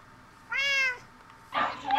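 A Minecraft cat gives one clear, close, rising-and-falling meow, followed moments later by a brief, noisier in-game sound.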